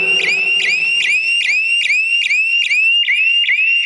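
An electronic alarm siren from a railway track fault detection system wails in rapid repeating upward sweeps, loud and continuous, with no other sounds.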